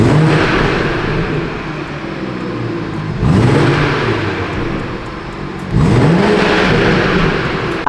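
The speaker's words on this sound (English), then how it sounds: "And then here's in sport plus. I'll let it rev down a little bit." A stock BMW B58 engine in sport plus mode gives loud, close revs in three bursts, each sharp rise settling into a sustained roar before the next blip, with no talking.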